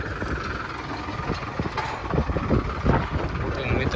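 An approaching tractor, brought in for paddy threshing on a farm, gives a steady low engine rumble that swells slightly as it nears, with gusts of wind buffeting the microphone.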